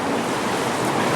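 Floodwater rushing across a camp site, a steady broadband wash of flowing water filling the whole short stretch with no gaps, loud and close with a hiss of wind-like turbulence.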